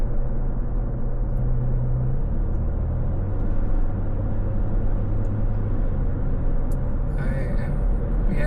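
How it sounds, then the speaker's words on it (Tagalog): Steady road traffic at night near the Jeddah fountain: a continuous low rumble of many cars and buses passing close by, with a brief hiss near the end. "ang daming sasakyan."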